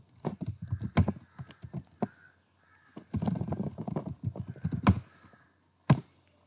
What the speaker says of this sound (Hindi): लिख लेता हूँ अपना ईमेल एड्रेस।